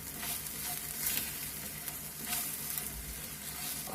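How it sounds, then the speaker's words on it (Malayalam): Turmeric and chili powder roasting with shallots in a pan for a Kerala-style prawn roast, a soft, even sizzle with light stirring scrapes throughout, with no talking. "ഇനി ഇത് നമുക്കിവിടെ ഒന്ന് റോസ്റ്റ് ചെയ്തെടുക്കാം അപ്പോൾ ഇത് റോസ്റ്റ് ആയിട്ടുണ്ട് ഇനി നമുക്ക് ഈ ഉള്ളിയായിട്ടൊന്ന് മിക്സ് ചെയ്യാം"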